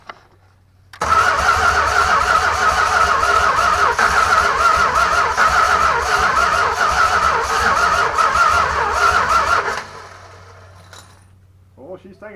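A junkyard 383 engine that has sat for 30 years cranks briefly, then catches and runs loud and rough close by for several seconds before shutting off abruptly, leaving a faint tail of ticking and rustle.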